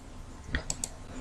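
A few crisp, quiet key clicks on a computer keyboard, pressing Enter at a MySQL command line, sounding close over a faint steady background hum.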